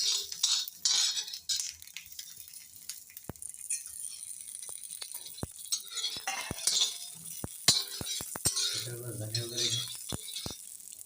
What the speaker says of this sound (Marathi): लसूण जी आहे ती भाजून घेणार आहोत. थोडी करपवूया, खरपूस भाजून घेऊया.